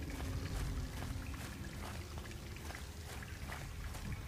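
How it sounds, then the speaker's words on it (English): Steady rushing water in the video game Fallout 3 flows continuously at moderate volume, a constant splashing wash with faint drips scattered through it. "You can really hear that water."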